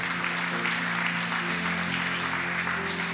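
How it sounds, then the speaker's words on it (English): A church congregation claps for upcoming baptisms during a Sunday service at a campus sanctuary. Steady, full applause runs throughout over a faint low hum. "you go ahead and clap for that"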